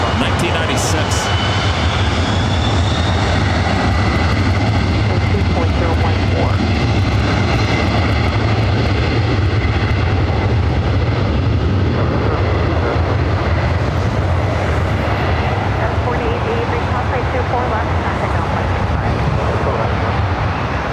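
Boeing 767 jet airliner on takeoff at LAX, bound for Honolulu: a loud, continuous, broadband engine roar with deep rumble that holds steady throughout, buffeted by wind noise, with a voice talking over it.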